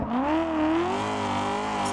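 A loud race car engine in the driving game Assetto Corsa whines and revs while drifting on a track, its pitch sweeping up and down and then holding a steady high drone, with no voices.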